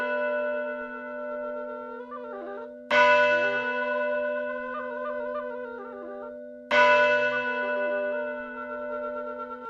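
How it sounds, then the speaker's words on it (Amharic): Holy Trinity church bell ringing to begin the liturgy, two loud resonant strikes several seconds apart, each ringing out with a long sustained hum and echoing decay. "የሥላሴ ቤተክርስቲያን የቅዳሴ ማስጀመሪያ ደወል የሁሉንም ድምፅ አስንቆ ተሰማ።"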